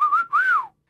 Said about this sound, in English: I can whistle normally